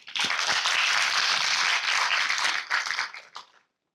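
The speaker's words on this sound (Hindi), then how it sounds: "खुद के लिए ताली बजा दी।" An audience at a youth Happiness Always program in Vaishali Nagar, Jaipur, breaks into crowd applause, a dense patter of many hands for about three and a half seconds before it cuts off abruptly.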